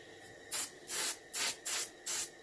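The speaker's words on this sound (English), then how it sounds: "Okay, I'm angle spraying all my fins" Five short, loud bursts of aerosol spray hissing in a quick, even rhythm as the fins of a reproduction warmouth fish are painted, close up with quiet gaps between.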